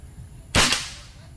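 A single sharp shot from a GCMAG air rifle fired at a target, a crisp close crack with a brief tail, alone against a quiet background.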